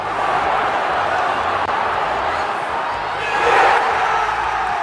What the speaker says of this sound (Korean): 경기장은 함성으로 가득 찼고